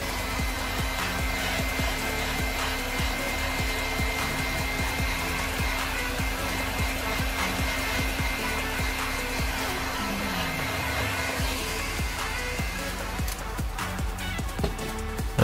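A heat gun blows continuously while heat-setting paint on a fishing lure, a steady loud whirring hiss that holds for the whole stretch with faint handling noises underneath.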